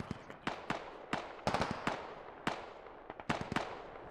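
Sharp gunfire in the military shooter Squad cracks out in irregular single shots and short bursts, some close and loud, others softer and farther off, over a quiet background.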